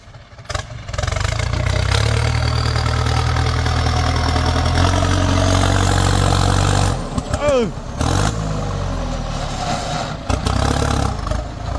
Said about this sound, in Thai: เป็นสีสันของเกียร์กลางดังคากคากนี่